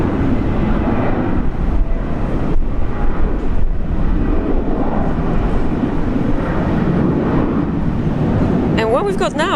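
A Qantas airliner at Brisbane International Airport at sunset gives a steady, broad jet-engine roar that stays level throughout, with a few brief chirps near the end.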